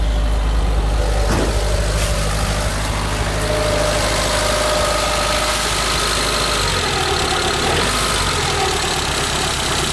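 A 1986 Suzuki Samurai engine idles steadily and continuously above 1,000 rpm, a low even hum with a faint mechanical rattle throughout, fairly close.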